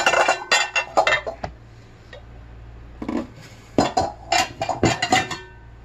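Secondhand dishes, including Pyrex pieces, clinking and clattering as they are handled, a series of sharp, close knocks in irregular bursts separated by brief pauses, with no voices.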